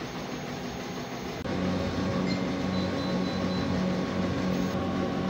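A large-format sublimation printer runs a print head cleaning cycle, giving a steady mechanical hum and whir that steps up louder partway through and holds, with no talk.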